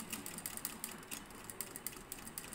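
A sewing machine runs quietly while stitching a dart in fabric, its needle ticking in a fast, steady mechanical rhythm with small regular clicks, faint and close with no voices.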